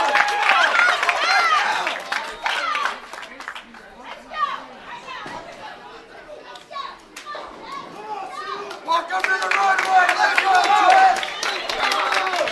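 Spectators at a bowling tournament final cheer, shout and applaud excitedly, a dense bright crowd roar that dips briefly in the middle before swelling loud again.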